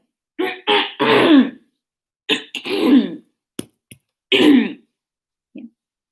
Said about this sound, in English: Just me clearing my throat